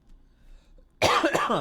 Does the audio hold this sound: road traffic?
no